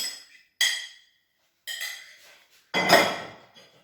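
Avocado is mixed in a bowl in a home kitchen, giving a few separate bursts of scraping and clinking from utensil against bowl, close and fairly loud, with short silences between strokes.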